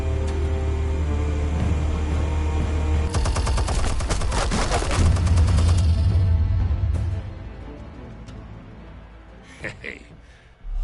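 Rapid machine gun fire erupts in a dense, loud burst of overlapping shots over a low rumble, then breaks off and gives way to a few quieter scattered sounds.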